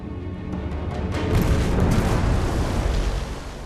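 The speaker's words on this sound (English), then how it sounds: "a massive explosion" A deep submarine explosion at sea swells into a heavy, rolling boom that rumbles on for a few seconds, with no voices.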